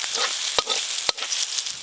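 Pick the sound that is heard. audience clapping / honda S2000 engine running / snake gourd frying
snake gourd frying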